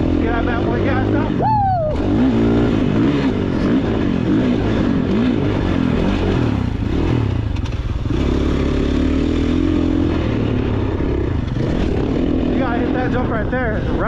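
Motorbike engine revving and surging continuously while riding through a turn on a dirt track, loud and close throughout with rising and falling pitch as the throttle opens.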